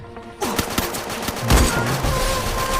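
Gunfire crackles in a first-person shooter video game, a burst of rapid loud shots over a dense, noisy battle mix, close and continuous without speech.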